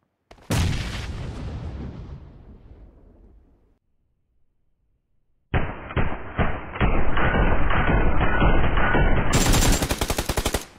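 Bursts of AKM rifle fire in PUBG Lite: an opening boom that trails off into a decaying rumble, a short silence, then loud, sustained rapid automatic spraying that grows brighter and harsher toward the end.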